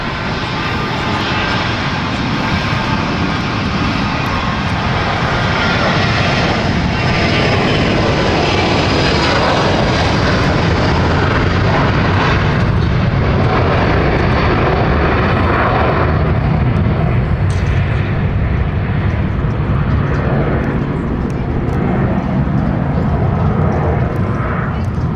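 A Falcon business jet roars at London City Airport, a loud, sustained broadband engine rumble filling the whole stretch with no pause, rising and settling slightly as it turns and powers away.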